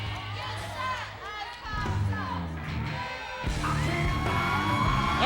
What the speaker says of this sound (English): And you hear the crowd explosion here in Davis Arena